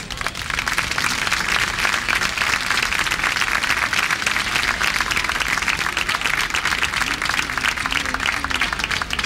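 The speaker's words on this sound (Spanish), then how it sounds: "para quienes les pido ya un fuerte aplauso" Audience giving strong, sustained applause at a regional folk dance show in Murcia for a coros y danzas folklore group, dense clapping filling the hall throughout.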